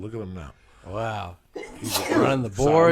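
A single loud sneeze bursts out near the middle, surrounded by close conversational speech from the people talking.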